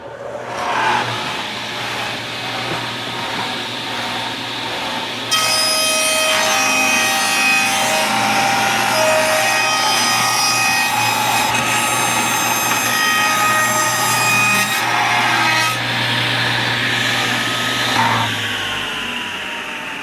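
A power saw trims a wooden cutout on a bathroom shelf board, with a loud continuous rasping cut that starts abruptly and holds steady for several seconds before easing off, close and without voices.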